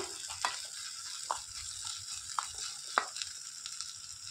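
Tomatoes and curry leaves sauté in a pan for mutton biryani, giving a steady close sizzle punctuated by four sharp clacks of a spoon stirring against the pan.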